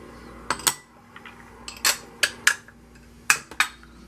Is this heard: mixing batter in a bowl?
yes